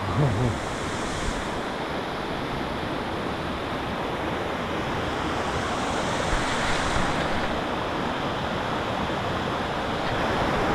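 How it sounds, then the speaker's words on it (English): Steady, dense roar of the waterfall at Aber Falls, North Wales, a broad continuous rush that holds level throughout, with a brief faint voice near the start. "There we are, there's the waterfall, look at that."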